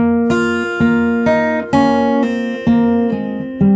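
Close fingerstyle guitar plays a passage of a song in a steady rhythm, eight or so bright plucked notes with bass strings ringing beneath, alone without any talking.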